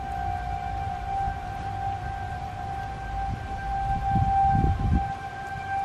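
Sirens wail at night, heard as steady high tones hanging over a low background rumble, with a few low thumps near the end and no voices.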